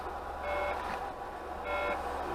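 A truck's reversing alarm sounds two clear, evenly spaced beeps over a low idling engine rumble, fairly close by.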